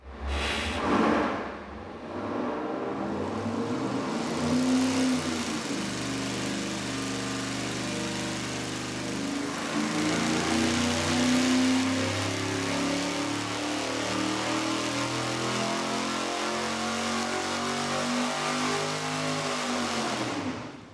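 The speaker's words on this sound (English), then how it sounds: "we're gonna fire it up and give you the baseline with our single 4-barrel and Victor Jr. intake manifold" A V8 engine fitted with a single 4-barrel carburetor and Victor Jr. intake manifold runs on a dyno, starting up and then holding a loud, steady roar with rising and falling revs for about twenty seconds, no voices.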